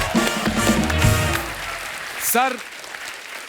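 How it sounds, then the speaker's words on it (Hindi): Audience applause at a live Hindi comedy stage show, a burst of clapping mixed with an announcer's voice, fading out before a short vocal exclamation near the end. "गुरुदेव की जोरदार तालियां इनके लिए"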